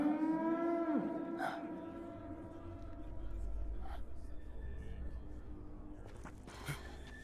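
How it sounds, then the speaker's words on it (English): Cows mooing in the video game Metal Gear Solid 4: Guns of the Patriots, several long, drawn-out moos near and clear, one after another, over a low game ambience. "Those cows?"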